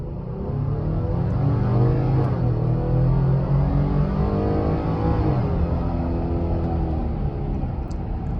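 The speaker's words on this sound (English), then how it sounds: "since I'm here at the light, let me go ahead and just floor it" A sixth-generation Ford Explorer with the 3.3-liter naturally aspirated V6 accelerates from a stoplight at full throttle, its engine note climbing steadily through gear changes in a loud, continuous cabin roar.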